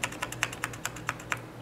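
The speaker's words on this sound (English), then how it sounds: "So I'm just tapping the N key on my keyboard." The N key on a computer keyboard is tapped repeatedly while entering Q-Flash to update a motherboard BIOS, giving about a dozen quick, evenly spaced clicks over a low steady hum.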